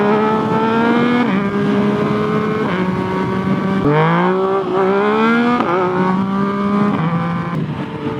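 Yamaha FZ09 motorcycle under way, its engine droning steadily with pitch rising and falling through gear changes and occasional exhaust pops, close and loud with no voice.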